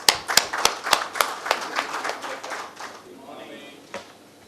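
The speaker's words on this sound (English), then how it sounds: "Welcome with again a round of applause." A round of applause at a Lean Six Sigma conference, a few loud close claps at first that build into brief scattered applause, then die away to sparse claps.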